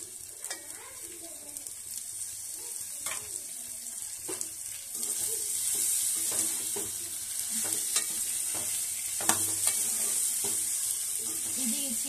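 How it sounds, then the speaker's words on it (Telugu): Chicken frying in a pan for Bhimavaram-style kodi pulav, a steady broad sizzle with scattered clinks and scrapes of stirring, growing a little louder partway through, with no voices. "చికెన్ కూడా ఈ దీంట్లో ఫ్రై అవ్వాలన్నమాట"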